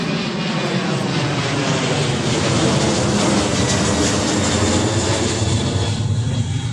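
An airplane taking off, heard as a loud, sustained engine roar with broad rushing noise that holds steady and swells slightly, with no voices over it.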